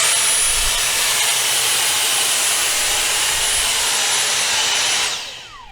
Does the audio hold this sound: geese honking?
no